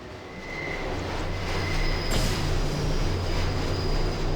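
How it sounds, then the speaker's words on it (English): A metro train in the Deus Ex video game rumbles steadily with a loud, continuous roar and rail noise, plus a faint high whine, and no voices. "At least the metro is still working."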